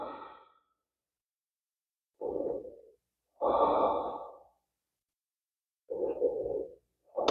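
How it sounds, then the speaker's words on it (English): Slow, deep breaths during a yoga class for twists and side stretches, resting with the arms forward after a twist: several close, audible inhales and exhales in an uneven rhythm, separated by silent pauses, with no talking. "Have a breath."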